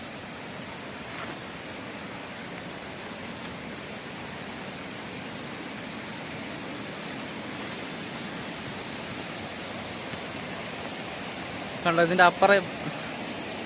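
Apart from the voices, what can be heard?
56 waterfall in Idukki, Painavu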